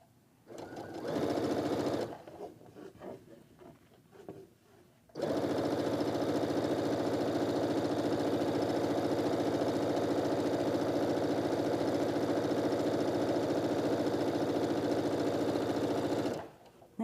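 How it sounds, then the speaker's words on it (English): Sewing machine stitching 2½-inch quilt strips, a brief start-stop burst with some talk, then a long steady whirring run before it stops. "just continue sewing so that you don't accidentally flip those seams over"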